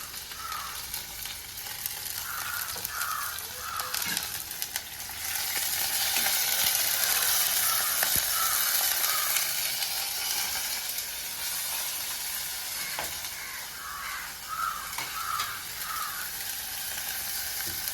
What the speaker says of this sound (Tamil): பச்சை மிளகாயும் கொஞ்சம் பொரிஞ்சால் தான் டேஸ்ட்டாக இருக்கும்